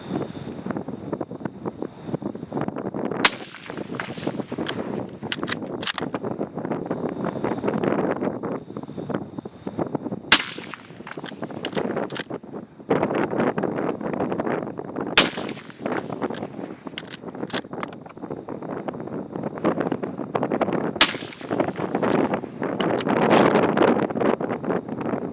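A P-14 rifle fires at a 600-yard target on a windy evening: four sharp, distant-sounding cracks spaced several seconds apart, nearly buried under constant roaring wind buffeting the microphone.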